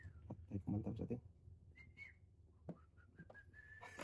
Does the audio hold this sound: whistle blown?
yes